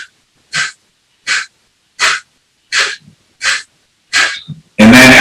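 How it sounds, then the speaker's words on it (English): Short, sharp breaths during a breathing exercise, six quick even puffs about a second apart, close and loud, followed by a longer rush of air at the end; no talking. "And I like to do short breaths first"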